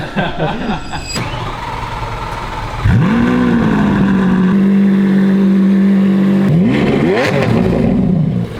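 A loud Lamborghini Aventador engine revs hard in bursts, then settles into a sustained high idle drone before revving sharply again.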